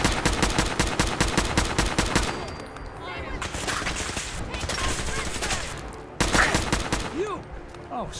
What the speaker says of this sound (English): My boring but practical combat rifle should do the job.